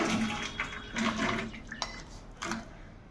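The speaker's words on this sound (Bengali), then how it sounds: "এখন হচ্ছে তরকারিটা ঢেলে ফেলবো" Egg curry poured out of a cooking pan, a soft wet sloshing and splashing with a few light metallic knocks, close and fairly quiet, with no one talking.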